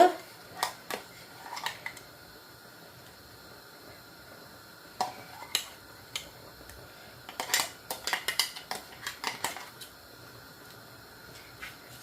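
Spoon scraping and clinking against a pot while ground pepper and cumin are mixed into Jaffna-style odiyal kool, a thick spicy palmyra-flour porridge; irregular bursts of close metallic clatter separated by quiet pauses, no talking.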